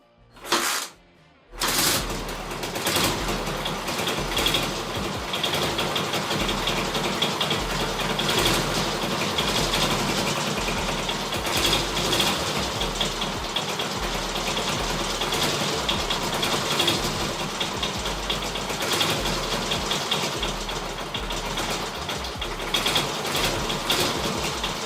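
A neglected K-750 flathead motorcycle engine fires up after a couple of brief cranking bursts, then runs steadily and loudly for over twenty seconds with an irregular mechanical knocking and clatter throughout.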